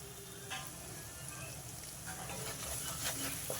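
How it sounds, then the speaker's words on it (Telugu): Ginger garlic paste sizzling in hot oil while cooking a mutton gravy curry, a close, continuous crackling fry with a few soft stirring scrapes over a short stretch. "వేగిపోయిందండి అల్లం వెల్లుల్లి పేస్ట్"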